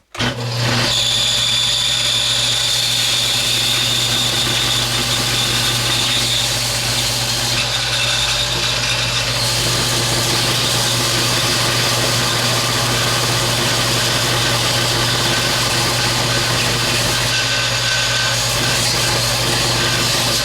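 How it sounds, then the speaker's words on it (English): A power sander runs continuously, smoothing the wooden body of a pinewood derby car, with a steady loud motor drone and a slight change in pitch partway through as the piece is pressed to it. "Very important with the sander."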